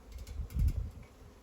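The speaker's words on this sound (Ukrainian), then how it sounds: "Там вже на віці 20 бджіл кружить." A swarm of honeybees circles an open hive entrance in late summer, giving a soft, steady buzzing hum that swells briefly and then settles, close to the listener with no talking over it.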